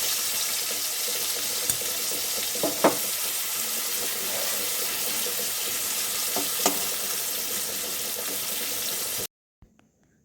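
Dried fish sizzles and spits steadily in hot mustard oil, a close continuous frying hiss with a few stirring clacks, ending abruptly with brief quiet knocks.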